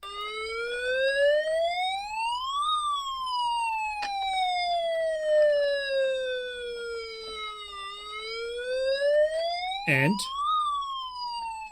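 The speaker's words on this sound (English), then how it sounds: "And then you can add the siren," A 1993 Hess toy patrol car sounds its electronic siren, a steady wailing tone that slowly rises and falls in long sweeps. A brief clatter near the end cuts across it, and a single spoken word comes at the start.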